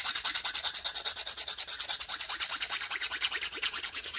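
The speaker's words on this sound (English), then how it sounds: "Let's use a nail file." A nail file rasps resin overflow off the edge of a sea-foam beach resin coaster in quick, even back-and-forth strokes, a close, quiet, rhythmic scratching with no other sounds.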